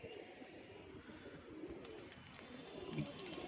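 Pigeons cooing softly in a cage during the rainy season amid a steady background hiss, low repeated coos rising slightly toward the end, no voices.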